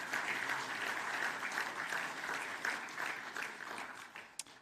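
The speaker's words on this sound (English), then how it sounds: "let's give our Centurions a big round of applause" Sustained audience applause at an awards ceremony for Australian rules football players, a steady wash of many hands clapping that fades slightly toward the end, heard at a moderate distance.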